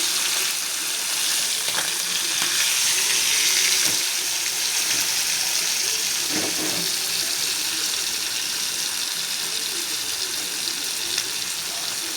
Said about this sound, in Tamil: மீன் நல்லா ஃப்ரை ஆகிடுச்சு.